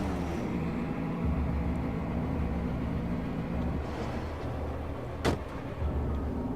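Car engine and tire noise from a car driving and drifting in the Alan Wake video game, a steady loud drone throughout with a brief sharp burst near the end, no talking.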